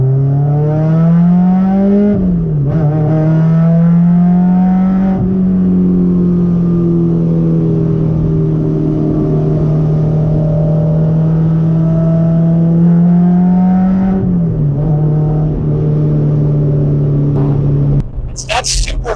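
A Honda S2000 with a very loud exhaust and stripped interior drones steadily from inside the cabin, its pitch rising and dipping through a few shifts, with a person talking over the engine.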